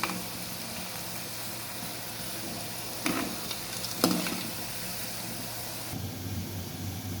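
Wheat-flour gorumitilu frying in a pan, giving a steady close sizzle with a few brief scraping clatters from stirring and no talking.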